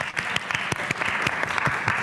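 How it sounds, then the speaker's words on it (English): Light applause from a conference audience at a conservatoire venue: a modest crowd clapping, with individual claps clearly separable in a loose, uneven rhythm, fairly close. "A light applause for Alex there."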